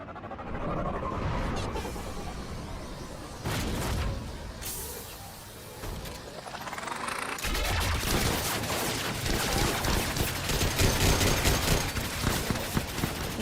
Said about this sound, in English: That's a lot of shooting.